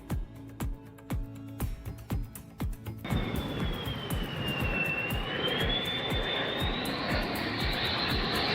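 A jet aircraft engine on landing approach roars up after a few seconds of rhythmic knocking, rising to a loud, steady whine with a high tone that drifts, sustained to the end.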